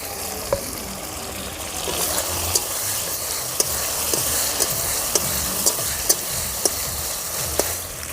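Chopped tomato and ground spice paste fry for a village-style chicken tarka on a clay stove, giving a loud, close sizzle broken by regular sharp taps and scrapes of a stirring utensil against the pan.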